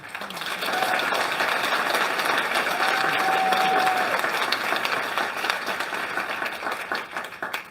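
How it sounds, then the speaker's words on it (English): Crowd applause at the official launch of the New Blue Ontario campaign in Cambridge, Ontario: steady dense clapping fills the room for several seconds, with a brief voice rising over it midway before it thins out. "Round of applause, Rain."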